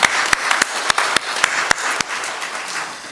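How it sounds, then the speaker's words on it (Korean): A church congregation claps in applause, a dense wash of many hands with several sharper individual claps standing out, steady and fairly loud across the whole stretch. "우리 하나님께 영광의 박수 드리겠습니다"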